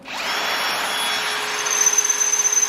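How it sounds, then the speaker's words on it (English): A power drill bores a hole for a light bar mount on an Ultra4 IFS twin-supercharged race car build. It is a close, continuous whine that grinds unevenly toward the end. "we decided we're going to drill a hole there"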